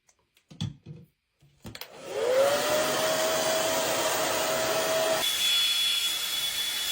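A hair dryer blows on hair, switching on after a few soft handling clicks and running as a steady close whoosh with a thin whine, then dropping to a lower setting near the end.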